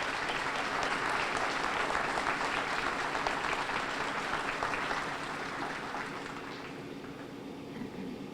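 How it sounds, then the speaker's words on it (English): A large audience at a police recruit class graduation applauds in a dense, sustained wash of clapping that tapers off gradually toward the end. "Let's give them a round of applause."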